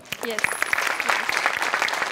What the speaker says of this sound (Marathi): मोठ्यांसाठी पण प्रचंड टाळ्या